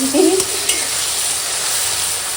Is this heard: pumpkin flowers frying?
yes